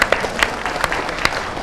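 An audience claps together in a short, dense burst of applause with a few sharper individual claps standing out.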